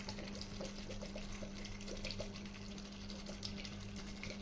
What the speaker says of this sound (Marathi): पाणी टाकते मी त्याच्यामध्ये.